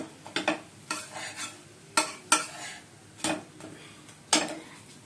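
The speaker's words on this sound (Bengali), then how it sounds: "বন্ধুরা ডিম টোস্ট করা হচ্ছে" Egg toast with onion cooks in a pan while a utensil repeatedly scrapes and taps the pan in irregular bursts, close by, over a faint sizzle.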